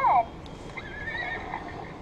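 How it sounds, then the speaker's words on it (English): A toy horse gives a brief electronic whinny at the start, quick and bright, followed by faint background hiss and a soft distant voice. "Sound like a horse."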